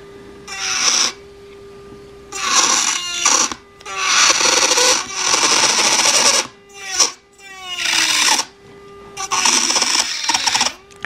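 A Melody Susie Jade Plus nail drill at full speed cuts into thick acrylic in several bursts, a high whine with gritty grinding, starting and stopping repeatedly, with the motor's pitch sliding between bursts.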